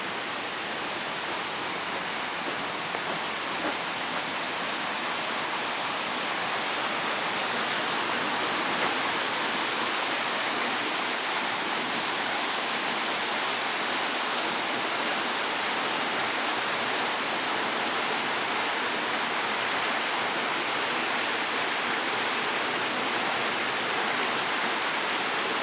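Waterfall at a temple in Shimoda, Japan, heard as a steady, full roar of rushing water that stays even and unbroken from start to finish, with no voices over it.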